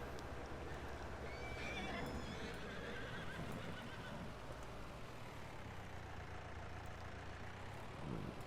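Horses in the Farming Simulator 19 video game, with a whinny or neigh rising early over a dense steady rumble of game ambience and hoof clip-clops, a second fainter whinny later, no voices.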